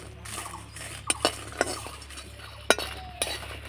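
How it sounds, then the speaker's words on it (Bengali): Whole spices dry-roasting in a pan for chicken masala, with a spoon scraping and stirring, a few sharp clinks against the metal, and a soft sizzle underneath. "মশলাগুলো ভেজে নিতে হবে আর জোরে যদি আছে ভাজেন তাহলে তিতো হয়ে যাবে"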